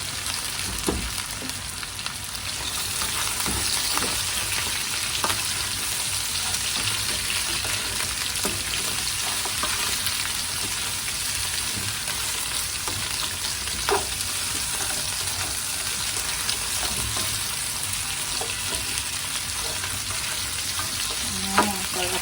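Chicken feet fry in a hot pan for a spicy chicken feet dish, a continuous loud sizzle and crackle with occasional scraping stirs and small pops, close by and without voices.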